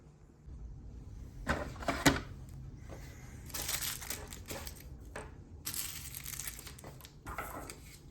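Cardboard and plastic packaging of a Marvel Legends Black Knight and Sersi box set is torn and crumpled open in several loud, crackling bursts with brief pauses between them.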